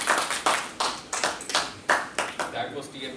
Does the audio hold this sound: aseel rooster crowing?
no